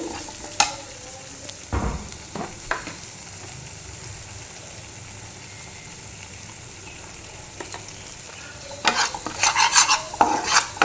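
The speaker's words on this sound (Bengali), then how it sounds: "এটা নিয়ে ভালো করে কষাবো" Kashmiri chili powder and turmeric frying in a pan under a quiet, constant sizzle, broken by a few scraping stirs early on and a busier cluster of spatula scrapes and clatters toward the end.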